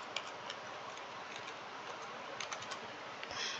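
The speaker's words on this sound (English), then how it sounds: "I'm gonna type in my username" Someone typing a username on a computer keyboard: quick, light, irregular key clicks close by, fairly quiet, with no talking.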